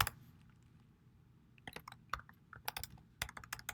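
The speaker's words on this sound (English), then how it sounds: "with Python, you can type this program directly" A computer keyboard being typed on to write a Python program, with irregular close key clicks in short bursts after a quiet start.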